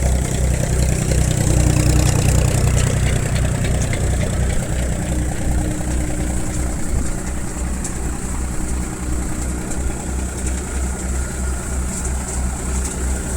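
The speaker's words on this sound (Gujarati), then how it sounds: "આ ઓટોમેટિક આખું થ્રેસર છે।" A Shaktiman automatic thresher runs with a Mahindra 275 tractor, a loud, steady mechanical drone with a low rhythmic engine throb that continues unbroken.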